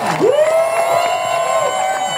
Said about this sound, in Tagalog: Pwede bang bigyan natin sa malakas na palakpak na parang nandito na si Tatay Digong?